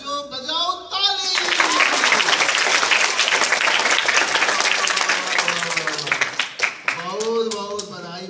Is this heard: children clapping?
yes